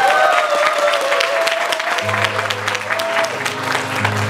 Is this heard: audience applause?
yes